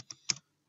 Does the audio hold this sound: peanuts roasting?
no